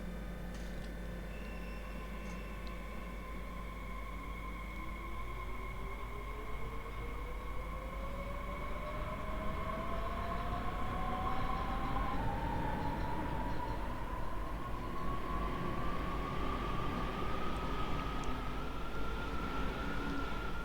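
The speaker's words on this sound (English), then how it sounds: "I'll let you listen to the departing sounds properly" An electric Frankfurt S-Bahn train departs in the Train Sim World 5 game, its motor whine climbing steadily in pitch over a constant low rumble, with no voices.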